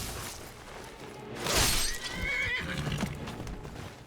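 A horse whinnies loudly in the video game Skyrim after being struck by a spell, a single sharp neigh with a glassy shattering burst alongside, set against faint background hooves and game ambience.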